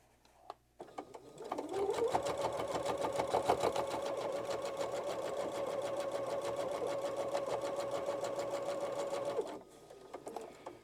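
A sewing machine stitches steadily through a thick composition notebook cover at a corner, one close continuous run of rapid needle strokes lasting most of the span before stopping, with brief handling sounds before and after.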